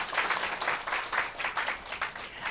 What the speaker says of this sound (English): Can we get a round of applause for our leaders?